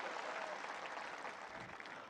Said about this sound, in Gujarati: મારા મીડિયાના મિત્રો માટે એક જોરદાર તાળીઓ થઈ જાય